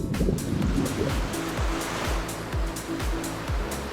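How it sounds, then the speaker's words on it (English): Surf at Lanikai Beach on Oahu rolls in continuously, a full, roaring wash of breaking waves heard up close, with wind buffeting the microphone and a low rumble under the steady water noise. "let's start off the tour with one of our favorite beaches in Oahu called Lanikai Beach"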